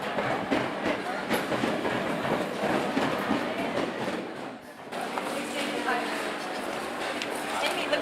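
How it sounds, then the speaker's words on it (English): A local passenger train in India rumbles along steadily, its wagons rattling with faint clickety-clack, while people talk over the continuous ride noise throughout. "There wasn't enough room in the van, so we're taking the local train."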